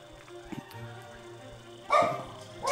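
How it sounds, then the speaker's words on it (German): A dog in the game Starbound gives two sharp yips, one near the middle and another at the end, loud and close over quiet background music. "Oha, der Hund."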